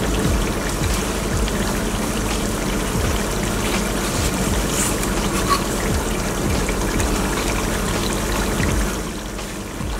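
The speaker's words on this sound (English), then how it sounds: "So in goes in my blended tomato mix, and yes, this is it bubbling away." Blended tomato mix for jollof rice simmering in a pot, a steady dense bubbling and gurgling that runs close and continuous for the whole stretch, easing slightly near the end, with no talking.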